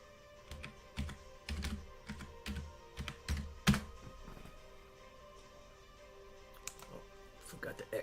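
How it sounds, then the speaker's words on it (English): Computer keyboard typed on at close range, with bursts of quick clicking keystrokes, a pause, and a few more taps at the end over a faint background hum. "Let me just type this in."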